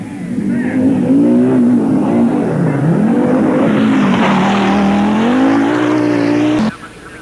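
Rally cars race around the Oulton Park circuit in Cheshire with a loud, sustained engine roar whose pitch rises and falls through gear changes. The roar cuts off abruptly near the end.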